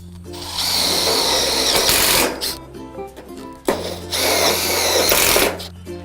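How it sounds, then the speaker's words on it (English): A power drill drives a screw into the steel frame of an Absco double roller garage shed, whirring loudly and close in two long bursts separated by a short pause. "Putting 1 screw in there."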